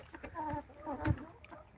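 Native desi chickens clucking on a small farm at midday, a few short close clucks and calls in quick succession over quiet background.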